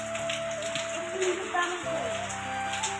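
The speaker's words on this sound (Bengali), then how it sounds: "এখন তো আরো বেশি বৃষ্টি পড়ছে" Heavy rain falls outdoors, a dense, steady patter and hiss that runs throughout while a voice is heard nearby.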